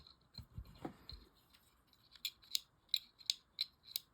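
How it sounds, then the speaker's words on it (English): A Pflueger Akron 1893 fishing reel's clicker ticks in a steady series of sharp, bright clicks, close and clear, following a few softer handling knocks, with no talking. "There's the clicker clicking."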